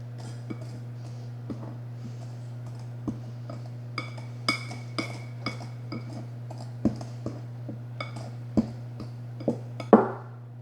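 A metal pastry blender cuts pastry in a bowl, giving a string of light, irregular clinks and taps against the bowl over a steady low hum, ending in a sharper clatter.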